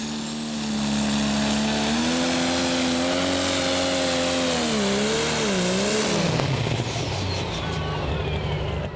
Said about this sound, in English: here's John Deere 8520 running into trouble soon after the start